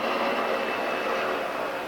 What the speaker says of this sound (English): We'll just wait for the helicopter to go by